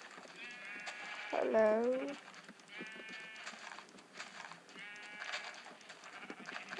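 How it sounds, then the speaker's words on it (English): Sheep in Minecraft bleat several times, a low wavering bleat standing out among repeated higher calls, all faint over game background noise while a player speaks briefly. "Ooh, a sheep. Sheep!"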